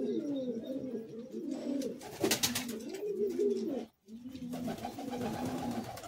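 Madrasi pigeons of an old bloodline cooing in repeated low, rolling phrases, close and steady, with a brief silence near the end before the cooing resumes.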